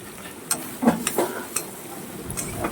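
Meat and lentils being stirred in a pressure cooker pot for dal with mutton, a few soft scraping and clinking strokes of a spoon against the metal, quiet and close with gentle sizzling underneath.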